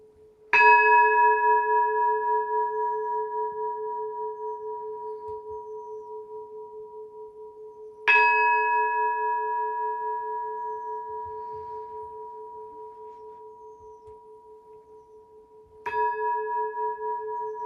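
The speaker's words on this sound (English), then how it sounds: "The ancient temple bell." An ancient temple bell is struck three times at roughly eight-second intervals, each strike a clear, sustained tone that rings on and slowly fades before the next, with nothing else heard.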